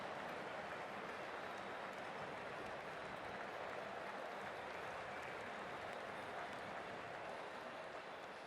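A cricket stadium crowd at a Pakistan vs New Zealand T20 match makes a constant, even roar of cheering and applause, distant and steady throughout.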